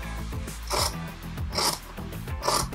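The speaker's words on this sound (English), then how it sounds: "I'm going to cut above the pins here all the way along to the back of the shirt" Scissors cut shirt fabric along a pinned line in three long, rhythmic snipping strokes, each a close crunchy rasp of blades through cloth, steady and moderately loud with a faint hum beneath.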